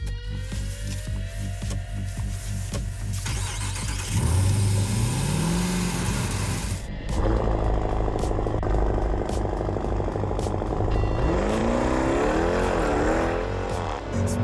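Jeep Trackhawk doing a launch-control start and accelerating hard, engine droning loudly, then surging and climbing in pitch through rapid gear changes up close.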